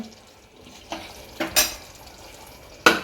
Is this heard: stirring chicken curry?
yes